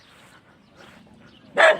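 A dog on a roadside by a district hospital gives one short, loud bark at the very end, after a quiet stretch of faint background noise.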